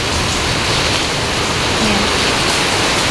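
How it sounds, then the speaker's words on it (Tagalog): Heavy rain falling hard outdoors near calamansi trees, a dense, continuous hiss and patter close by, loud and unbroken throughout. "Ang lakas ng ulan, guys."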